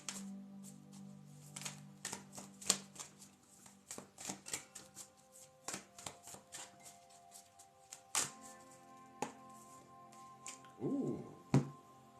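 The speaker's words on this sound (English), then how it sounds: "We also shuffle the goddess cards today." Tarot and goddess oracle cards being shuffled and handled, a series of close, crisp snaps and riffles with quiet gaps between, plus a few soft thuds of the deck near the end.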